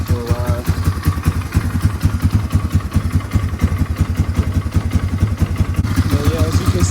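Polaris Sportsman 500 ATV that sat unused for six years, its engine now running at a lumpy idle with a loud, close, pulsing putter and clatter, while someone talks over it.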